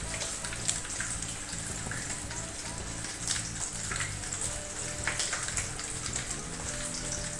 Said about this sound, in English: get it straight onto the keg washer and let that run